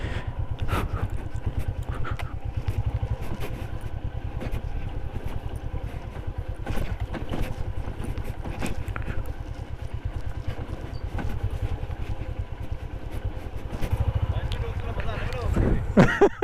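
Motorbike ridden along a rough, slippery trail toward a natural waterfall in Soon Valley, its engine putter steady and close throughout, with clattering jolts and occasional voices over the motor.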